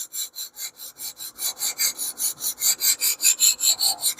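A knife blade is stroked back and forth on a sharpening stone, about twenty quick, even rasping strokes that grow louder and close up, with no talk.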